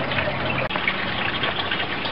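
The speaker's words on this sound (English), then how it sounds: "it allows air to transfer into the bell, which breaks the siphon and turns off the flow of water out of the bed" Water gushes and churns through an aquaponics bell siphon drain, a loud continuous rushing flow close by with one brief dip partway through.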